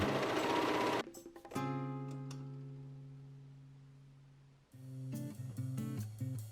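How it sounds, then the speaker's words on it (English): A sewing machine running a cover stitch around a garment lining: a loud burst of rapid stitching, then a sustained humming tone that fades slowly, and a final stretch of fast mechanical stitching, with no talk. "For the lining, I folded it up and am doing a cover stitch all the way around."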